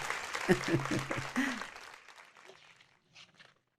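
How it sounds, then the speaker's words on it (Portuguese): Audience applause at a sermon gathering: a burst of clapping from a crowd that swells early, then thins and fades out over a few seconds, with scattered claps near the end. "Sim, você pode bater palmas se quiser."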